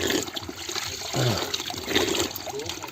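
Cold spring water flows and trickles steadily outdoors, a continuous close splashing wash with a faint voice briefly underneath.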